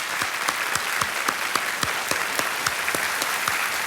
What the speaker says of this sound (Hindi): एक बार फिर से जोरदार तालियां इशिता के लिए।